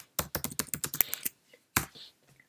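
Fingers type a short folder name on a Mac keyboard, about a dozen quick crisp key taps in a fast burst, a pause, then a firmer single keystroke and a few faint clicks, close and clear with no talking.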